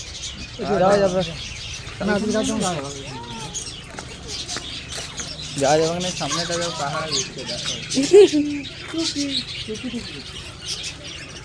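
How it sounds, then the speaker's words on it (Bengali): Birds chirp and call outdoors in scattered bursts near a tarp-covered enclosure, mixed in with people talking close by. "পাখিগুলো দেখো কি সুন্দর"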